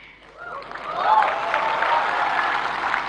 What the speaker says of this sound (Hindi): पुरुष ताली बजा रहे हैं